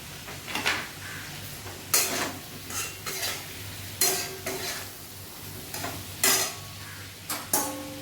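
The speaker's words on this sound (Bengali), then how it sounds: "এবার আমি কড়াইয়ে ঢালবো।" Tomato and other ingredients going into a wok for khichuri, with a string of sharp metal scrapes and clinks from stirring and faint sizzling underneath, close up and with no talking.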